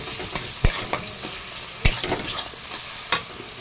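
Drumstick leaves and tomato sautéing in a pan, a soft steady sizzle broken by a few sharp scrapes of a stirring spoon, close by, with no voices.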